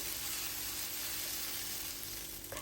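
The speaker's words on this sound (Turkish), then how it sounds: "Öncesinde az bir yağla biberlerimi kızartıyorum." Peppers fry in a little oil in a pan, giving a continuous dense sizzle that stays loud and steady throughout, close up with no talking.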